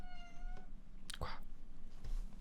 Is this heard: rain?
no